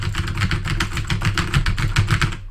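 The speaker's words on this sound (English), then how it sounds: "I use a mechanical keyboard here, as you just heard" Fast, continuous keystrokes on a mechanical keyboard, crisp clicky taps in an even rapid rhythm, close up and alone for a couple of seconds before stopping.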